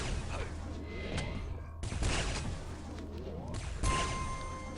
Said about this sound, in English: And that's gonna be one more railgun frag